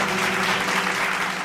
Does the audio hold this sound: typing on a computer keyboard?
no